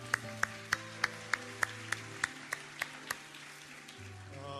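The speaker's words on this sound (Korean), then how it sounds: "우리 다시 한번 하나님 앞에 영광과 감사의 박수 올려드리겠습니다." About a dozen evenly spaced claps ring out in a steady beat from a church congregation during a Sunday worship service, over sustained low musical tones.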